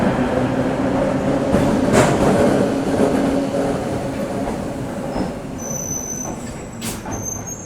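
The 74906 Udhampur–Pathankot DMU train pulls out of Udhampur railway station, a loud rumbling rolling clatter with wheel noise and squeals, slowly fading as it departs, with no voices.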